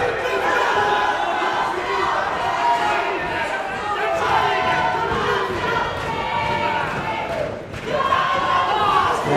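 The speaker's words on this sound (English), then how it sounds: "the home crowd really willing IJAZ on" A home crowd at a British super flyweight boxing title fight roars and cheers steadily and loudly throughout, with a commentator talking over the noise.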